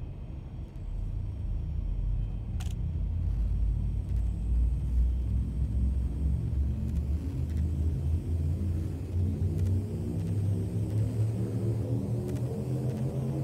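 Ship's jump drive charging in the space game Elite: Dangerous, heard as a deep continuous rumble with a tone that rises steadily in pitch over the final seconds, alone and moderately loud.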